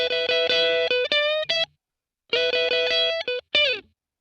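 A Fender electric guitar is played dry, without reverb, in two short phrases of clean, sustained notes and chords separated by a silent gap, each note cutting off abruptly.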